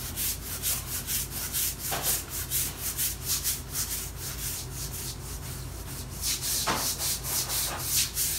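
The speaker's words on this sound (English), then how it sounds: "Scrub area with brush. This will help remove embedded soil and food grease." A deck brush scrubs a grocery store floor to lift embedded soil and food grease, making a close, steady series of rhythmic scraping strokes with a few sharper swipes.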